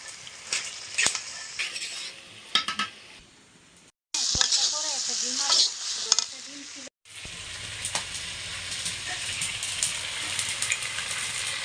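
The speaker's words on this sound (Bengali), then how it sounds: "কিছুক্ষণ কষানোর পরে আমি টমেটোটা দিতেছি দিয়ে একটু লাড়া দিই" Tomato stirred into potatoes and other vegetables frying in a pan: steady sizzle with scraping stir strokes, broken by two short silent gaps, and a voice faintly audible partway through.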